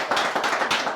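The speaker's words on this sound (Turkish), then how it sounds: "Kocaman bir alkış gelsin büyük üstada." Audience applause for a singer at a Kurdish-Turkish music program, a dense burst of many hands clapping close and loud, with rhythmic surges throughout the second.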